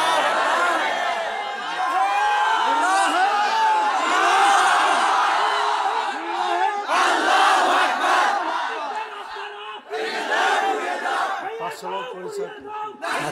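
A large gathering of men at a religious assembly shouts the takbir in loud unison, with repeated rising bursts of chanting voices that swell, break off and start again.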